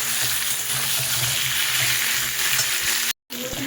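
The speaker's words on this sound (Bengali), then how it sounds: "এখন আলু পেঁপে আর এই পটলটাকে বেশ ভালো করে একটু ভেজে নেব নাড়িয়ে চাড়িয়ে ভেজে নেব" Potato, papaya and pointed gourd fry in hot oil while being stirred, giving a loud, steady, close sizzle with faint scraping that cuts out briefly near the end.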